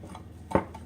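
A spoon knocking once against a mug while stirring brownie batter, a single short close clink within a brief quiet moment.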